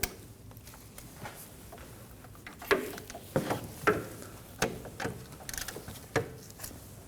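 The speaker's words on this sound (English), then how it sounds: "Now we can torque down the caliper pin bolts to 23 foot-pounds" A torque wrench tightens brake caliper pin bolts on a 2011-2016 Kia Optima, giving faint, close metallic clicks and ratcheting ticks in irregular bursts against a quiet background.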